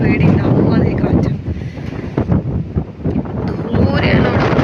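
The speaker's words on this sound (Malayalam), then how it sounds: "അടിപൊളിയായിട്ട് കാറ്റടിക്കുന്നുണ്ട്." Strong wind buffets the microphone on a misty hilltop near Ooty, a loud, continuous, rumbling roar that surges and dips throughout, with a voice partly buried beneath it.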